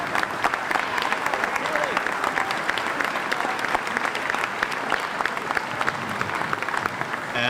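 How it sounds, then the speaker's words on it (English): Sustained applause from an indoor crowd at a university athletics Wall of Fame induction ceremony, a dense steady clapping that fills the whole stretch with a faint voice or two underneath. "please stand and receive a round of applause"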